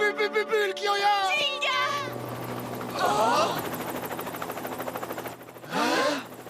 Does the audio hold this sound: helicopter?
yes